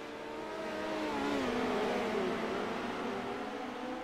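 Midget race cars accelerate and rev on a dirt track in the Dirt Leagues Australia Midgets Super Series at Kokomo, a steady high engine roar that rises and falls slightly as the pack runs at moderate distance.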